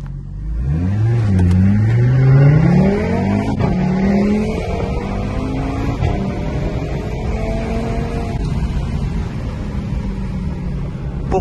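An Audi RS3 accelerates hard, its engine revving up through rising pitch with a brief dip at a gear change, then climbing again; loud and close, heard from the cabin with no talk.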